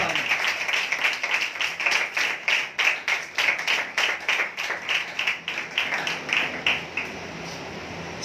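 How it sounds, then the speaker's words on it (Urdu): A church congregation claps loudly for the Lord during a Sunday Holy Communion service, rapid sustained applause with a quick, steady rhythm that fades slightly near the end. "آئے خداوند کے لیے زوردار تالیاں"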